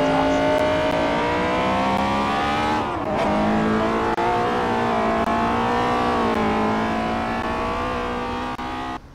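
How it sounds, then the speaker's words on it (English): A 2018 Acura TLX A-Spec engine and exhaust drone loudly while driving, a steady harmonic hum that dips and swells with throttle changes, close and continuous, with no talk. "as you guys can hear, the car sounds awesome"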